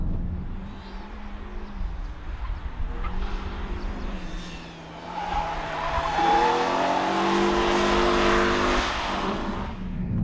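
Renault Twingo RS mk1 launching hard from a standstill, its engine revving up through rising, wavering tones that swell louder toward the end, with a brief whine and roar carrying over several seconds.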